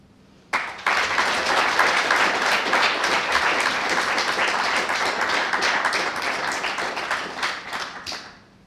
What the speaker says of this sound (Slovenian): Vseeno pa mislim, da si zasluži bučen aplavz